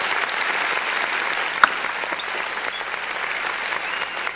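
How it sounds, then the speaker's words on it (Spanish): Applause from an audience at a talk by a playwright, heard as a steady, moderately loud patter of many hands with one sharper clap partway through and no talking. "mil gracias, William, por ese aplauso"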